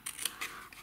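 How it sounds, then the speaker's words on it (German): Paper scissors snipping through paper, a quick pair of close, crisp cuts followed by a softer third snip, alone with no talk. "da schneiden wir jetzt mit der Papierschere"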